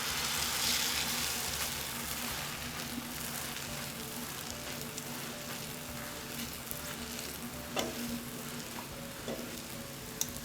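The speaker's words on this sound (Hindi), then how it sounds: "एक साइड पकने पर इसकी साइड चेंज करें ताकि दूसरी साइड से भी अच्छी तरह पक जाए।" Zeera paratha made with egg and maida frying in oil on a hot pan after being flipped, a steady close sizzle with faint stirring and scraping clicks running throughout, no voices.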